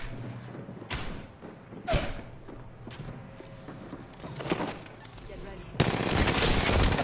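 Bursts of rapid video game gunfire crackle over a noisy, busy mix, with a louder sustained blast near the end.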